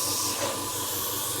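An Iwata airbrush compressor runs after kicking back in, giving a steady, fairly loud hiss with a low mechanical hum beneath it and no pauses through the short stretch.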